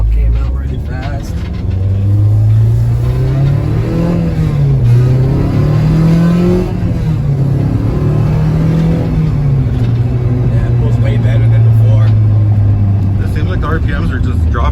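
A Honda Civic with a swapped K20A Type R engine revs and pulls through the gears while driving, a loud close engine drone rising and falling in pitch with shifts, with voices talking over it.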